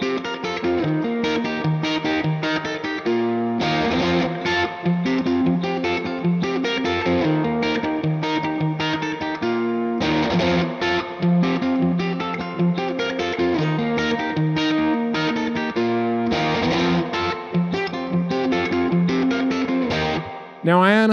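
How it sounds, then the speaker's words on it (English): Electric guitar played through a Strymon Capistan pedal set as a spring reverb with no echoes, chords and notes ringing with a wet, splashy reverb tail, continuous and loud with no talk. "This is what it sounds like if you use the Capistan just as a reverb"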